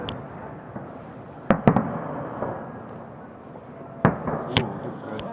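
Victory Day fireworks in Kaluga go off as a handful of sharp distant bangs with crackling tails, spaced apart over a low murmur of outdoor background noise.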